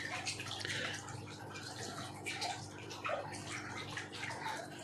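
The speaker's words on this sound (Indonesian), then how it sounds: "ini pompa kecil pun dia bisa menghasilkan bubble yang bagus" Water bubbles and gurgles steadily from a small 7-watt AC submersible pump, a soft continuous fizzing and splashing that stays faint and close, without speech.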